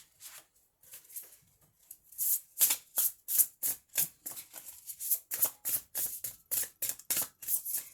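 Tarot energy cards being shuffled by hand, a run of crisp riffling bursts that start sparse and quiet, then turn rapid, rhythmic and close.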